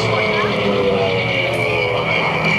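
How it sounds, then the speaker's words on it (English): A P-51 Mustang roars at an airshow as it launches, a loud sustained propeller-engine drone with a slight pitch sweep, heard under a voice speaking over it. "Well, our P-51 is launched."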